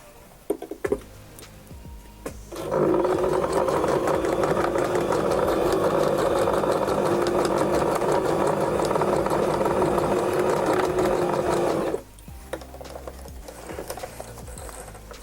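Several seconds of quiet handling lead into a domestic sewing machine stitching trouser fabric with a steady, loud mechanical whir, close up. It runs continuously for about nine seconds before stopping abruptly, followed by softer handling sounds.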